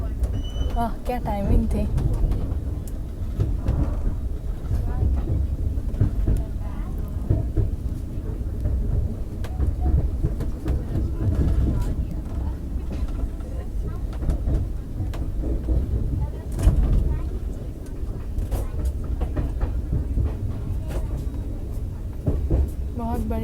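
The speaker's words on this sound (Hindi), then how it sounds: "और यहाँ से देखो ट्रेन," Train noise heard from inside a Rajdhani Express 2AC coach as another train passes: a steady loud rumble with rattling and faint clacks throughout, while someone talks over it.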